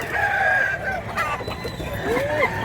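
Roosters and chickens at a poultry market, with a nearby crow of rising and falling tone amid clucks and other fowl calls, all fairly loud and busy.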